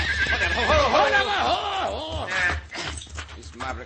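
A horse neighs loudly in a long, wavering whinny, followed by scuffling and clattering hooves. Everything sits over a low rumbling backdrop in a 1950s Western radio drama.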